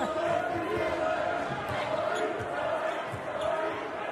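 Basketball arena crowd at a UCF home women's game against UConn, with the pep band and fans cheering in a steady, dense roar throughout, with occasional sharp accents.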